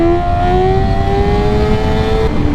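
A motorcycle engine revs hard and steady while the rider holds a wheelie, the loud, close whine staying high and climbing gradually in pitch before easing off near the end.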